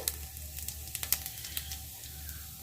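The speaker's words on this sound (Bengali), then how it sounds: "এবারে ওই তেলের মধ্যে আমি দিয়ে দেব গোটা জিরে" Whole cumin seeds sizzling in hot oil after potatoes were fried, a soft crackling hiss with small scattered pops, close and fairly quiet.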